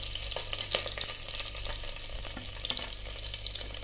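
Green chilli pieces sizzling in hot oil with curry leaves, a steady dense crackle and hiss of frying with occasional sharper pops, close and continuous with no talk.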